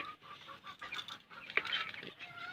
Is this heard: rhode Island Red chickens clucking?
yes